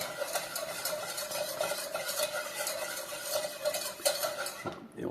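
Butter and flour roux is stirred in a pan with the heat switched off, a continuous close scraping and swishing with faint sizzle that carries on steadily and alone.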